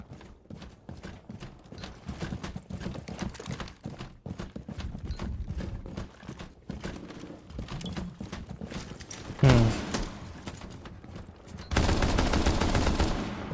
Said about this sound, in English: Shots going out